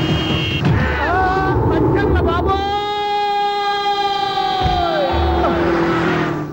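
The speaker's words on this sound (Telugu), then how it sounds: "సైరన్నే కొట్టాడు" A siren sounds in a Telugu comedy film scene, a sustained tonal blare of about three seconds that fades at the end, amid voices and crowd noise.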